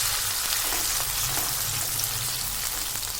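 Onion paste frying in a pan for a Bengali chicken curry, giving a steady, dense close-up sizzle with a crackling hiss that holds evenly throughout and no voices.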